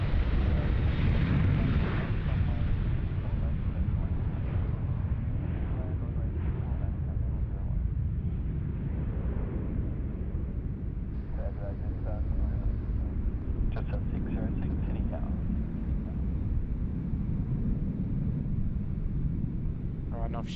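A Qantas airliner bound for Bangkok takes off at Sydney Airport, a steady, broad jet roar heard from a distance with wind noise, while someone talks over it.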